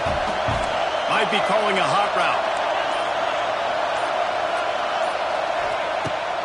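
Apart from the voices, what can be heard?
crowd cheering in NCAA 26 football video game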